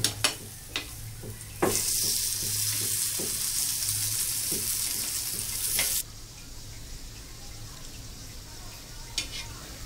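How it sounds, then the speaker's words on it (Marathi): Spicy banana slices fry in hot oil in a pan, giving a steady, close hiss. The sizzle swells loudly for a few seconds, then settles to a softer crackle, with a few light clinks of a utensil. "एका साइडून व्यवस्थित फ्राय झाल्यावर आपल्याला दुसरी साइड पण फ्राय करून घ्यायची आहे"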